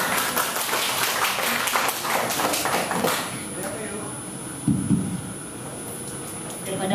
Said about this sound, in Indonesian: Tepuk tangan untuk Ibu Lucia.